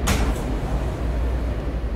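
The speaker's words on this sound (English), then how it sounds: "The doors will open on the right." Subway train doors slide open on an E train with a quick, bright whoosh at the start, followed by a loud steady low rumble of the car.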